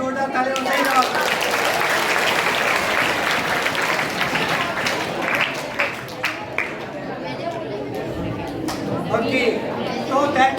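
Seminar audience applause at a memory expert's session fills the room in a dense, sustained burst, with chatter and a voice running under the clapping throughout.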